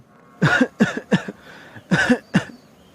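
A cartoon character in an animated Bengali drama coughs six times, loud and close, in two uneven groups of short, raspy hacks with brief gaps between them.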